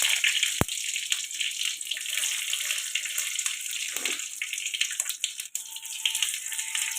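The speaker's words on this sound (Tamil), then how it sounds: "கடுகு பொரிஞ்சதும் 2 காஞ்ச மிளகாய் போட்டுருவோம்." Mustard seeds and two dried red chillies sizzle in hot oil, a steady bright crackling hiss running throughout with a sharp pop near the start and small spits scattered over it.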